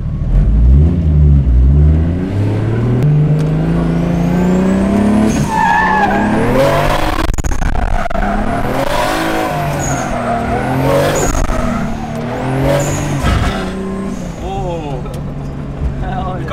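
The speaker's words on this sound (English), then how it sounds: "We gotta go on the bumpy road now, hit some bumps and see how it goes." A car is driven over a bumpy road, its engine rising and falling in pitch with revving while tires scrub and rumble. A person talks loudly over the vehicle noise throughout.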